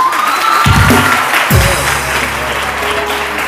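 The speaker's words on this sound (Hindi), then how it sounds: "अच्छा तालियां बजा के दिखाएं" Steady studio audience applause on a TV morning show fills the room at full volume, with a voice talking over it throughout.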